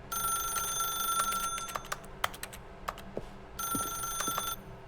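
A telephone rings in The Stanley Parable video game, bright repeated electronic trills in bursts that pause briefly and then resume, loud and close with a few clicks between.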